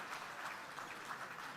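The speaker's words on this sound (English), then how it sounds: "give yourselves a round of applause" Banquet audience at a Texas bankers hall of fame dinner applauding, a soft, steady patter of many hands heard from a distance throughout, with no voices on top.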